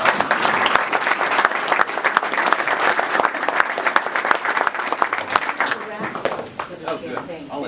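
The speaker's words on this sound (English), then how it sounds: "give them a round of applause for all this" Applause from an audience at a political talk, dense continuous clapping that stays strong for several seconds before thinning out toward the end, with voices murmuring underneath.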